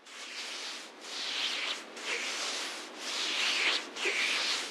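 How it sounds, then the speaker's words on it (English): Palms rub together in slow, even strokes, five soft brushing swishes with brief pauses between them, close and quiet, with no voices. "this is a sample from an ASMR video of hand rubbing"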